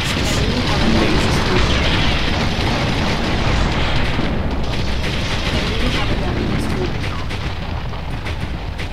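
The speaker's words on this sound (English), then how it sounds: "The sound of the gunfire from the main battle tanks is amazing." Main battle tanks fire their guns in the real-time strategy game Ground Control, making a loud, dense rumble of overlapping booms and blasts that runs unbroken and fades slightly toward the end.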